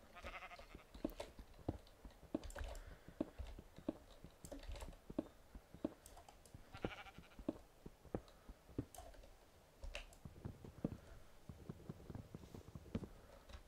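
Sheep bleating in the Minecraft game Agrarian Skies 2, short bleats repeating among rapid keyboard clicking and tapping, close and fairly quiet.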